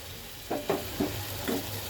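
Chicken masala with ground nuts frying in a pan sizzles and crackles as a little water is added, with several short bursts of hissing over a low background.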